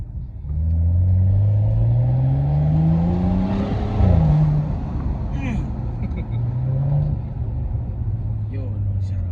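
A straight-piped BMW 335i with the N55 engine and Akrapovic exhaust revs up close and loud, its rising and falling engine note rumbling and droning through gear changes while people talk inside the car.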